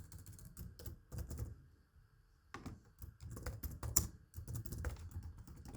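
Keys clatter on a computer keyboard in quick, irregular bursts broken by short pauses, soft and close with no one talking.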